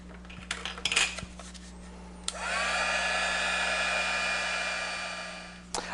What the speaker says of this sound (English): I'm going to use my heat tool to set this on here to give it that nice finished edge for my letter